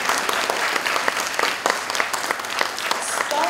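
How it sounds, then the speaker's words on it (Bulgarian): A hall audience applauds the anniversaries of a community centre and its library, sustained dense clapping with sharp individual claps standing out, filling the room at a fairly loud level, with faint voices underneath. "Аплодисменти за юбилейните годишнини на читалище Зора."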